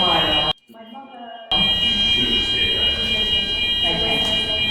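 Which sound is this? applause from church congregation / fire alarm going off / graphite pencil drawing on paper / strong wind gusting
fire alarm going off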